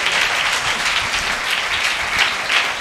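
A church congregation claps loudly and continuously, a dense wash of many hands applauding together with no break.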